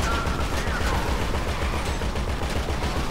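Dense, continuous gunfire from a shootout with police in Grand Theft Auto V, a rapid unbroken barrage of loud shots with heavy low thuds and no pauses, close and filling the whole moment.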